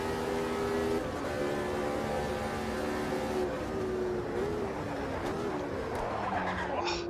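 A 1983 turbocharged Ferrari Formula 1 car in a racing game, its engine droning and shifting pitch steadily, with faint tyre noise and no speech.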